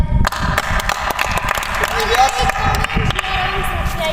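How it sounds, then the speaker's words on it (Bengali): An audience clapping after a song is sung, a dense patter of hands with voices talking over it throughout. "সবাই একটা জোরে হাত তালি দেওয়ার"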